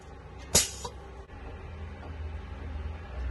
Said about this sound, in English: valve that just sends a bit of compressed air over the bottom of the fuel cell to clear any